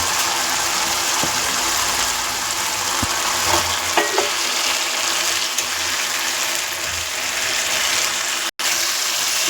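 Eggplant pieces stir-fry in a spiced masala, a steady loud sizzle with scraping stirs and a couple of sharp clicks, close and continuous with a brief dropout near the end.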